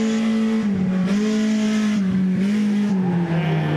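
A rented race car on a solo qualifying run at PBIR revs hard in first gear, its engine note climbing and dipping in several surges, loud and close, with no talk.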